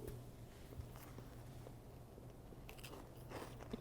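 Crunchy frozen Cheeto being bitten and chewed, a few faint brittle crunches spread across a quiet stretch with no talking.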